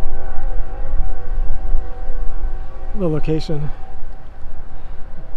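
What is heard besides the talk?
distant train whistle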